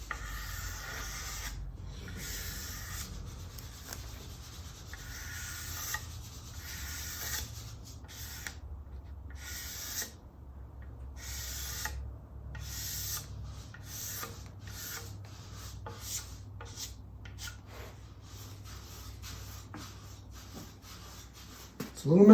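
A tool scrapes excess Tru-Oil finish off a surface in repeated short rasping strokes, fairly faint and close, with a steady low background hum underneath.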